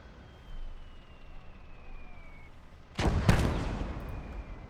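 German artillery in a World War II beach assault video game: quiet background ambience and then a sudden pair of loud, close firing blasts in quick succession, followed by a lingering rumble.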